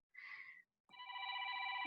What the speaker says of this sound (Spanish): me está tocando el teléfono y no lo puedo apagar